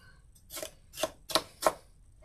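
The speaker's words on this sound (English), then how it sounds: "get our peppers, our onions chopped up" Kitchen knife chopping peppers and onions on a cutting board at home: four distinct, fairly close chops spaced about a third of a second apart, with no talk.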